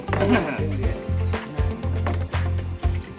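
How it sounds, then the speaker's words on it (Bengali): Leafy mixture for a natural pesticide stirred in a container, giving repeated rustling, scraping strokes in a steady rhythm, close and moderately loud, with no voices. "মাঝে মাঝে একটু করে নাড়া দিবেন"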